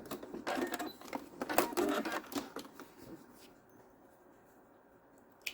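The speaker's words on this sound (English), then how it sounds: "I'm going to do a few stitches backwards and forwards" A domestic sewing machine stitches a few quick bursts backward and forward through scrap fabric for a key fob, close and clattering, then stops and leaves near silence.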